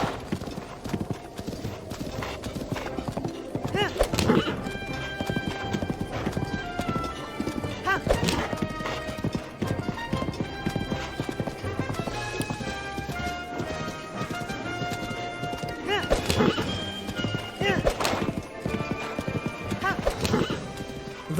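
Horse hooves clip-clop at a steady gallop while riding across Hyrule in Zelda: Breath of the Wild with a sound mod, a continuous rhythmic beat with occasional neighs, layered under game music.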